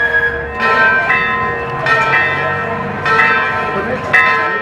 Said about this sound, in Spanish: ¿Cuánto tiempo hace que estás tocando la campana?